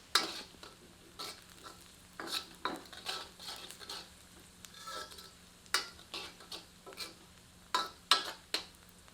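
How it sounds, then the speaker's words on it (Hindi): Onions fry over medium heat in a pan, with a soft sizzle under a series of sharp, close spoon clinks and scrapes against the metal at irregular intervals, and no voices. "प्याज को मध्यम आंच पर तब तक भूनते हैं जब तक कि इसका रंग सुनहरे से भूरे के बीच में नहीं"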